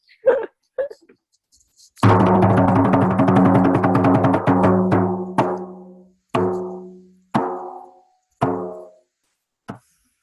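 A hand drum is struck, first with a quick flurry of hits, then single resonant strikes spaced a second apart, each ringing out and fading.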